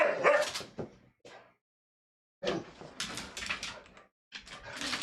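Pet dogs excitedly yipping, barking and whimpering in short close bursts separated by brief silent gaps, no talking.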